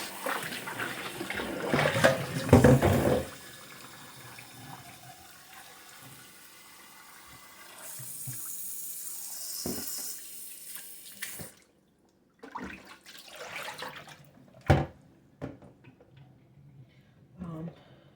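Tap water runs into a sink while a Cornish hen is rinsed under cold water, a loud splashing gush at first, then quieter trickling and handling sounds with intermittent breaks and some talking.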